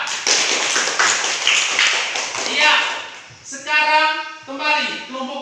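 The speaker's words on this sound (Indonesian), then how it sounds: "Tepuk tangan untuk kelompok 4" Students in an Indonesian classroom clap for a presenting group, a quick run of loud, close hand claps fading out within a few seconds, followed by a teacher speaking.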